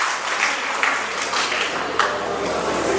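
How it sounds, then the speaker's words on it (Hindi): Audience clapping after a recited Hindi poem, a sustained crowd applause of many hands at steady loudness with a few sharper claps standing out. "सबने तालियां बजाई।"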